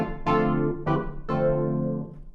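Three sustained chords sound in turn through a Large Room Dark reverb preset in Cubase, each trailing off into a dark, roomy reverb that smears the notes together as they fade.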